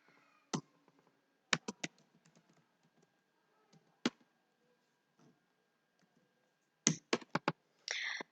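Python code being typed on a computer keyboard produces quiet, scattered clusters of sharp key clicks, separated by silent pauses.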